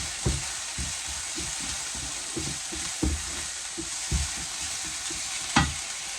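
Mushrooms frying in olive oil in a pan give a steady close sizzle, broken by a few soft knocks of stirring, with no voices.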